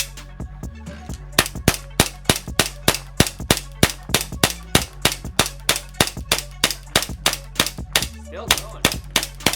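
JAG Arms GMX gas blowback airsoft pistol firing BBs from a second magazine without a gas refill, in a room at around 65 degrees: a long, steady string of sharp, close shots in quick regular rhythm, with a brief spoken remark.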